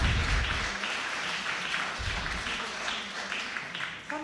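An audience at a World Stroke Day event applauds a stroke ambassador, giving steady, even clapping from a large crowd that fills the room from start to finish.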